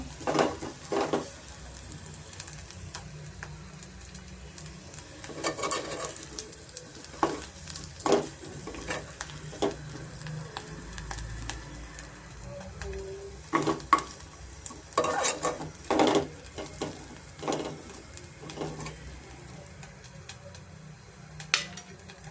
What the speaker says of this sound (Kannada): ಪೊಟ್ಯಾಟೋನ ನಾನು ಫ್ರೈ ಮಾಡಿ ಇಟ್ಕೊಂಡಿದ್ದೀನಿ